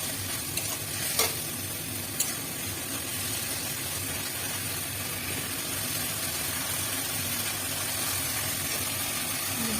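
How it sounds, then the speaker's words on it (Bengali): Vegetables for Bengali shukto stir-fry in a hot pan, giving a steady, close sizzle and hiss that runs throughout, with a few sharp utensil clinks near the start. "কষিয়ে নেবো, নিয়ে সবজিগুলোকে তুলে দেবো।"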